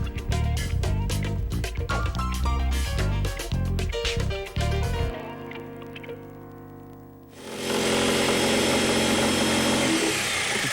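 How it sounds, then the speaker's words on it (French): Jigsaw with upward-cutting teeth sawing through material in a home-renovation setting, a loud buzzing rasp with a steady pitch that drops away partway, followed by a different broadband roar. "elle est en train de couper avec une scie sauteuse dont les dents vont en remontant"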